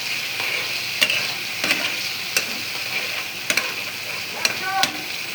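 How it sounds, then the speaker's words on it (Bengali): Potatoes sautéed in spice paste in a pan, a steady close sizzle broken by repeated sharp spatula clinks and scrapes at irregular intervals. "আলুটা দিয়ে দিলাম, দিয়ে এখন কষিয়ে নেব"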